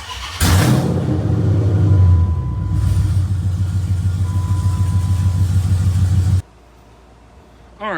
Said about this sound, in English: Let's give this thing a start up.